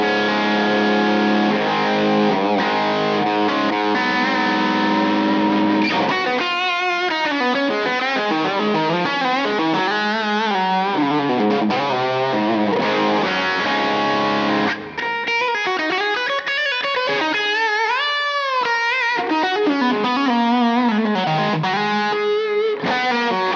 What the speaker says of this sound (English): Let's add a tube screamer to that.